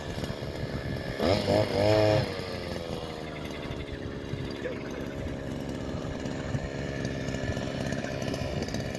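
Motorized scythe cutting reeds at a pond, a steady engine drone that runs the whole way through, with a brief louder revving burst near the start.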